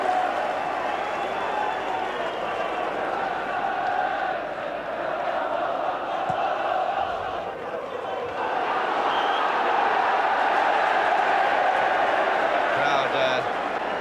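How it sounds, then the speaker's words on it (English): A 1984 English football stadium crowd, with a broad, steady roar and scattered applause greeting a free kick awarded to Nottingham Forest, while a commentator talks over it throughout. "Crowd ironically applauding the fact that this free kick has gone to Forest."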